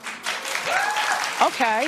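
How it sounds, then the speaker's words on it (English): Studio audience applause at a live TV talk show, a steady wash of clapping heard under someone talking briefly over it. "clap if you're going to see the Jonas Brothers"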